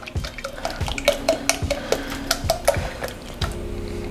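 Cream poured from a carton into a big pot of New England clam chowder, giving close, irregular drips and splashes of liquid with small clinks of the container, heard alone.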